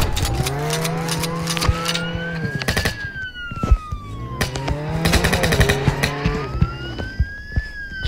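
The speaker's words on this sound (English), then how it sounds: "Shotgun." Shotgun blasts in the Roblox Jailbreak game, a string of sharp bursting shots scattered among a police siren wail and car engine noise, loud and busy.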